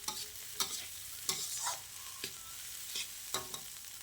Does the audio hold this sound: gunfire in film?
no